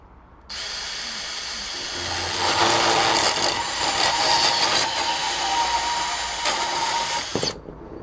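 A DeWalt DCS377 20V Max compact band saw with a 12/14 TPI blade cuts through 1 inch EMT steel conduit, a steady loud whine and grinding rasp that runs about seven seconds and swells midway before stopping.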